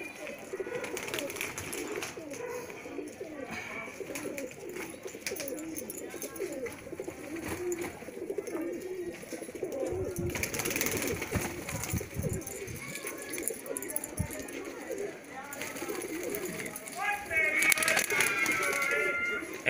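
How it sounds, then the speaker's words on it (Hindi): Malwai slate pigeons coo in a loft, repeated soft throaty calls near and far under ongoing talk, with occasional light crackling and tapping. "भैया स्लेटी कबूतर हमारे मशहूर स्लेटी।"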